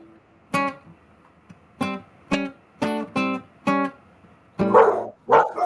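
Dogs barking nearby, about eight sharp, sometimes doubled barks at an uneven pace, followed by rougher, scuffling yelps at the end.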